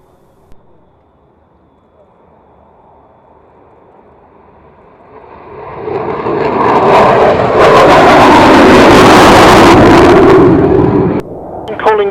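Military aircraft taking off at the Royal International Air Tattoo: a jet roar builds from a low rumble to a loud, broad, sustained blast, then cuts off sharply near the end.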